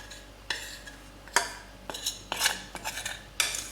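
Whisk working cake batter with melted chocolate for a three-chocolate cake: sharp metallic clinks and scrapes against a bowl, repeated in irregular bursts, close and clear, with no talking.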